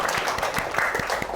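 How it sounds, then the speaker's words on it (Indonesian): Classroom applause for a student group after a presentation, pupils clapping together in a rhythmic, roughly regular beat, a few sharp claps per second ringing clearly over a light patter of background noise. "kita beri tepuk tangan untuk kelompok 1."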